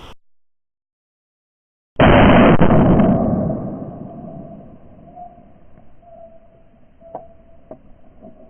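A single loud 20 gauge shotgun blast fired at a target of flour, eggs and a PC power supply, sharp and close, followed by a long decaying outdoor echo and faint later knocks.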